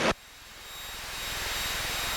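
Piper Cherokee 180 single-engine propeller plane climbing at high power, a steady droning engine hum with a faint rhythmic propeller pulse, swelling slightly louder after a brief cockpit radio blip at the start.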